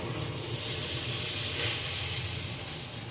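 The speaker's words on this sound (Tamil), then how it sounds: "இப்போ கொஞ்சம் கருவேப்பிலையை கிள்ளி போட்டுக்கிறேன்." Curry leaves sizzle and crackle in hot oil in a home kitchen, a loud steady hiss that continues evenly and close by.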